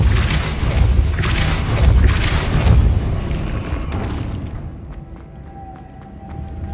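Depulso force spell cast in Hogwarts Legacy, a loud booming, thudding blast with rumbling bursts over the first few seconds that fade into a quieter tail, no talk.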